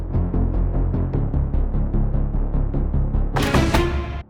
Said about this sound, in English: This is the Kniphonium.